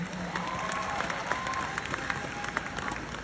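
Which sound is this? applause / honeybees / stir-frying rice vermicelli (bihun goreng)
applause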